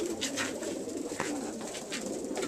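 Pet birds, including pigeon- or dove-like cooing, call loudly and continuously while fighting, close and dense with no talking.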